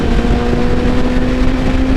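A Yamaha R6 sport motorcycle engine drones loudly and steadily at high RPM, holding a constant tone up in its power band, close by and alone.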